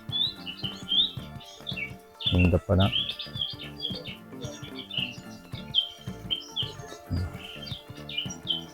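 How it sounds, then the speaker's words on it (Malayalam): Small birds chirp and tweet continuously at a bird sanctuary in Buraidah, Saudi Arabia, with bright repeated calls, a few louder bursts and a person speaking briefly underneath. "ഇപ്പം കിളികളുടെ കരച്ചിൽ"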